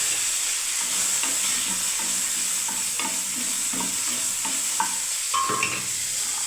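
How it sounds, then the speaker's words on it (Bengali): Cauliflower florets fry in a hot pan for a mixed-vegetable dish, with a strong continuous sizzle and repeated scraping stirs of a spatula, close and steady throughout. "প্রথমে ফুলকপিটা একটু ভেজে নিচ্ছি"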